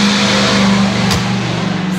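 A car engine revs hard outside a Porsche dealership, a loud, close, sustained roar with a steady droning pitch and a brief surge near the middle, with no talking over it.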